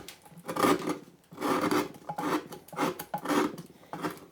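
A wood gouge carves into cottonwood bark while roughing out leaves on a deep-set greenman carving, making a series of close, rasping scraping strokes in a steady rhythm with no talk.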